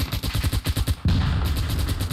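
Heavy automatic gunfire in a war video game, a rapid rhythmic burst of close shots giving way to a dense, continuous roar of fire.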